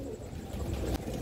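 Pigeons coo in soft, low rolling calls at a crowded Baghdad pigeon market, heard amid a busy background murmur, with a brief knock near the end.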